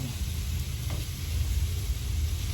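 Minced pork grills in a flat frying pan, giving a steady, even sizzle that crackles on without pause and with no talking.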